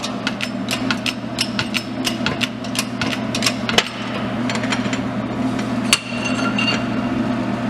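Press forcing a bearing off a manual transmission main shaft, with sharp metallic clanks and knocks over a steady low machine hum, close by and fairly loud.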